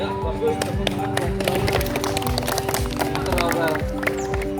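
Students give a round of applause at a school athletics shot put performance test, steady clapping throughout alongside footsteps and background voices.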